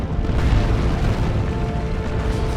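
Loud, sustained rumbling boom of a Looted Tank being destroyed in a Dawn of War 2 3v3 battle, dense low-end blast noise holding steady for a few seconds with no voices.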